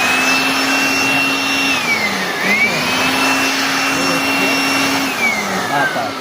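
A Madina brand 1800 watt electric blower machine runs continuously with a loud, steady whine whose pitch dips and rises as the speed shifts, close by, with a faint voice underneath.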